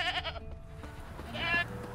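A goat tied to a stake in The Witcher 3 video game lets out short, nasal bleats, one burst at the start and another near the end, with low game ambience between.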